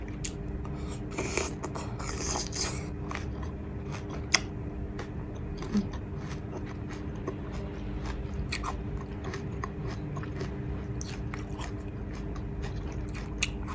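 Crisp crunching bites into candied, syrup-soaked jujube fruit, a close steady chewing crunch running throughout with a few sharper cracks early on and no talking.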